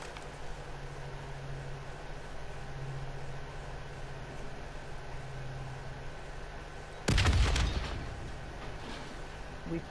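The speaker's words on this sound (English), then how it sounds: "The explosion blocked our path." A single sudden explosion sound effect bursts loudly after a stretch of low ambient hum, then decays over a couple of seconds with no talk.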